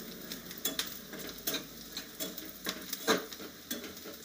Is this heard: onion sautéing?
yes